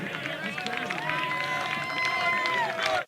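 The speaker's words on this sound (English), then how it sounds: "Crowd making noise here." Steady crowd noise at a college baseball game, a continuous murmur of many voices and cheering that holds throughout and stops abruptly at the end.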